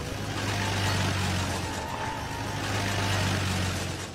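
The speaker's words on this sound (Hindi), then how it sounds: "तभी अचानक गांव में एक गाड़ी आकर रुकी।" A car engine rumbles steadily as the vehicle pulls into a village and stops in a cartoon story, a moderate, continuous idling drone heard alone without voices.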